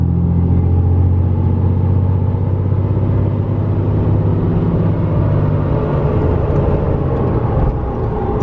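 Pickup truck accelerating on a highway, its engine a loud, steady low rumble throughout with road and wind noise and no speech.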